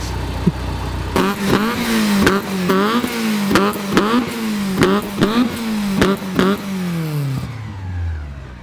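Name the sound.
car engine revving and banging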